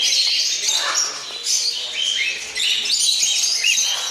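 Many small birds in a bird store chirp and tweet continuously, a busy overlapping chorus of bright, high calls close by, with occasional cooing underneath.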